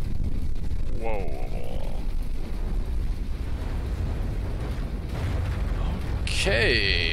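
A nuclear weapon detonates in the naval combat game From the Depths, a deep rumbling blast that swells and rolls on for several seconds, with whistling shell sounds at the start and end.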